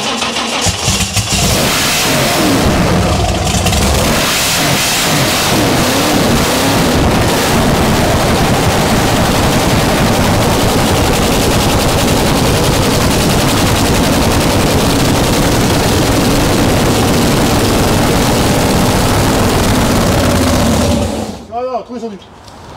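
A high-power car engine of about 2000 horsepower in a 980-kilo car roars loudly and continuously for some twenty seconds after starting, with harsh rattling bursts and revving, then cuts out abruptly; voices are heard underneath.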